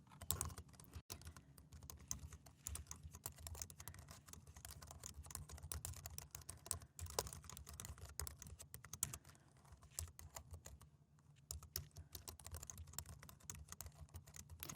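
Steady, rapid keystrokes on a computer keyboard as code is typed, a dense run of close clicks with brief pauses and no talking.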